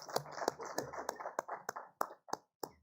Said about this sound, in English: please give a huge round of applause and welcome Ms. Jaya